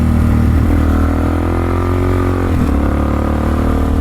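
Suzuki DRZ-400SM motorcycle riding along a gravel road, its engine droning steadily and loud up close, with a brief dip in pitch around a downshift before the revs settle back in.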